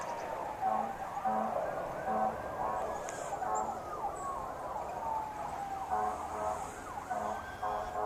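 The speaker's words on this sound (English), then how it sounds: "More sirens." Wailing emergency sirens from a large building fire rise and fall at a distance, several overlapping, including a fire engine, with faint speech and street noise underneath.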